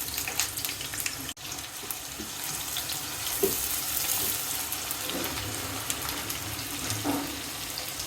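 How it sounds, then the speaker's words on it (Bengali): Chopped onions sizzling in hot oil in a home kitchen, a steady close hiss and crackle running without pause and with no talk. "তেল গরম হয়ে গিয়েছে, দিয়ে দিচ্ছি পেঁয়াজ কুচি"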